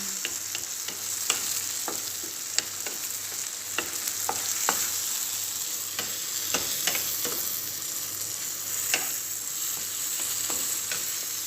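Bitter gourd and egg stir-frying in a pan, a steady loud sizzle with scattered sharp clicks and scrapes of stirring throughout, no voices.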